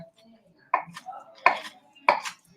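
Three sharp chops of a Japanese steel Mosefata knife striking a cutting board while preparing salmon cakes, evenly spaced and close, with faint kitchen sounds between strikes.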